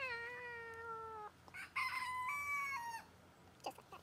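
A rooster on a small goat-keeping farm crows twice, loud and close, with long drawn-out harmonic calls, followed by a few shorter fowl clucks near the end.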